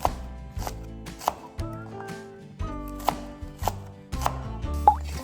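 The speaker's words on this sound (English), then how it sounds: "Cut the fresh Thai peppers into small pieces." Fresh Thai peppers being chopped into small pieces with a knife on a board: a steady series of sharp, close chops at an uneven pace, heard over soft background music.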